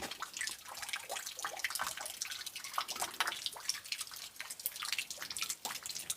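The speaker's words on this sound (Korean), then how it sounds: "처마 밑에 흐르는 물소리" Water drips and trickles steadily from the eaves at close range, with many small irregular splashes and no voices.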